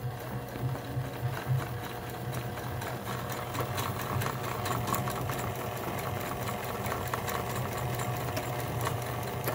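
A Kenmore Sensor Sew 70 electronic sewing machine stitching: a continuous, close mechanical whir with a rapid rattling needle rhythm and a steady motor hum underneath, running for nearly ten seconds without talk.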